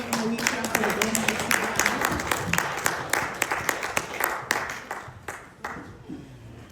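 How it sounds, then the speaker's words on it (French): A church congregation claps as a speaker approaches, with steady rhythmic applause that thins out and trails off toward the end. "As she's coming, we clap for them."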